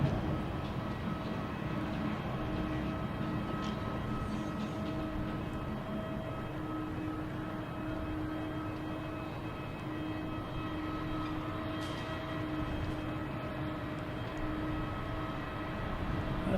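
An Emirates airliner passes near Boston Logan Airport with a steady, droning jet rumble and a faint whine that hold evenly throughout, at moderate volume with no talk.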